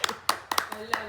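Several quick, sharp hand claps at a family iftar gathering in a Dubai home, scattered and uneven within about a second, fairly soft and mixed with talk.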